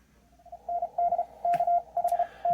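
A Morse code CW station tuned in on an amateur radio receiver: a clean, steady-pitched keyed tone sounding in short dits and longer dahs in irregular groups, heard alone against a faint hiss.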